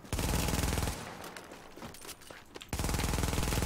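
Rapid automatic fire from an MP7 submachine gun in The Division's Dark Zone PvP, two loud sustained bursts separated by a quieter gap of scattered distant shots.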